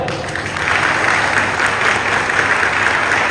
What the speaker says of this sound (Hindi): फिर से ताली कमजोर है